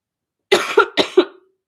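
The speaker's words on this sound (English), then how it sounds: "I'm like coughing." Four sharp, harsh coughs in quick succession, close and fairly loud, then silence.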